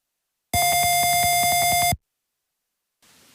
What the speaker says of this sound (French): Si je connecte un buzzer à ma carte Arduino, je peux créer un programme qui va déclencher un son à chaque fois qu'un mouvement est détecté.